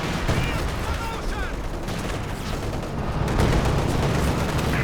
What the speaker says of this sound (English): So just barraging into the center.